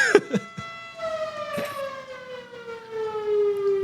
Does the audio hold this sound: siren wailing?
yes